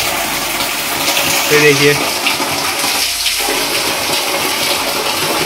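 Water flows and splashes steadily at the Ekeswar Mahadev temple, a close continuous rushing sound with people talking briefly over it.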